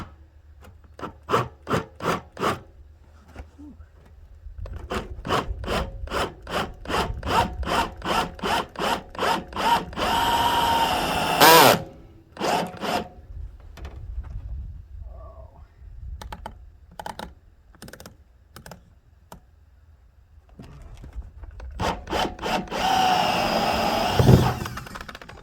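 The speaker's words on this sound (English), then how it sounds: "got the hole saw set up on the drill." A power drill with a hole saw grinds through a fuel tank in a quick series of short bursts, then in longer sustained cuts, rasping and buzzing up close.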